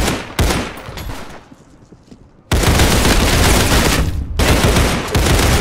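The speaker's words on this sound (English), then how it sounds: "Look at me, both are taking pot shots." Video game gunfire from two enemies taking pot shots: dense rapid bursts of shots, loud and close, with a brief lull before the firing resumes heavier and continuous.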